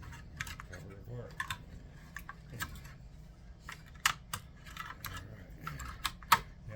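A plastic case of a digital power meter being pried and snapped apart with a sawzall blade, giving scattered sharp clicks and cracks over a low hum.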